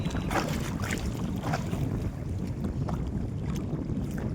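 Strong wind gusting over open water on a fishing trip, a loud, rough, constant roar buffeting the microphone, with faint lapping water underneath.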